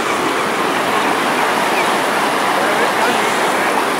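Saltstraumen tidal current at Bodø, Norway, the world's strongest tidal current, rushing loudly and steadily close by as a broad, unbroken roar of water along the shore.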